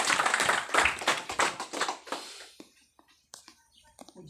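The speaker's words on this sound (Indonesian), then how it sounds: "kita tepuk tangan untuk Tuhan Yesus" A church congregation claps hands in praise, a burst of loud, irregular clapping for about two seconds that thins out into scattered, quieter claps and then near silence.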